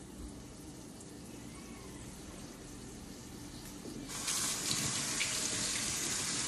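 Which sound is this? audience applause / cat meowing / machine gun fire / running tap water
running tap water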